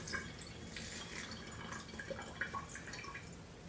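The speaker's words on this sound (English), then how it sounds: "I'm just going to strain in about a 1/4 cup of my ginger bug." Ginger bug liquid pours through a small strainer and funnel in a faint trickle, with light drips and splashes close by.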